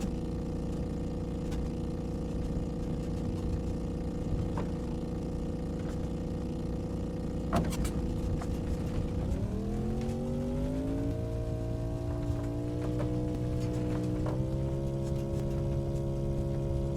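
A buggy in Microsoft Flight Simulator 2024 drives off-road over uneven terrain, its steady engine drone droning alone throughout, then rising in pitch with a few knocks partway through as the load and speed change.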